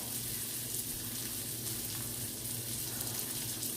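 A pot of curry vegetables at a full boil on the stove, a steady, quiet bubbling hiss that runs evenly throughout with no talking.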